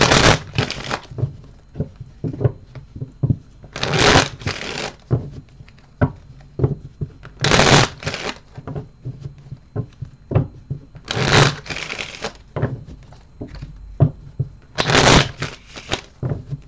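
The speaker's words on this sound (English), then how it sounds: "Let me just shuffle these." Tarot cards being shuffled in several bursts of quick riffling, close by, with quieter handling and tapping of the deck in between.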